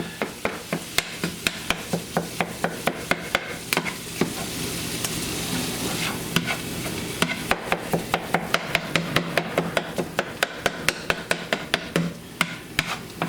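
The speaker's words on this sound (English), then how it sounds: "I just keep chopping like this." Knife chopping food in a pan while it cooks, a steady run of sharp close taps and knocks over a continuous frying sizzle, with a brief pause midway before the chopping resumes.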